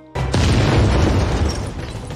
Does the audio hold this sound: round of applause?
no